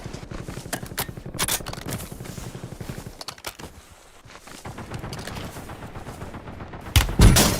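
Video game gunfire, rapid automatic bursts and single shots close up, with a short lull in the middle and a heavy final burst, no speech.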